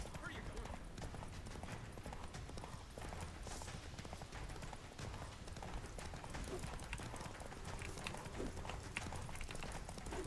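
Roach, a horse in The Witcher 3, galloping at speed across Skellige, a steady rapid clip-clop of hooves running continuously under game noise and voices.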